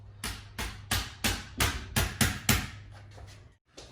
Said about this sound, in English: So you can hit it with the drill.